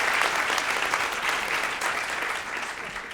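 A large conference audience at Creative Innovation 2019 Asia Pacific applauds speakers Emma and Kathleen, a loud, dense, sustained wash of clapping filling the whole stretch without pause.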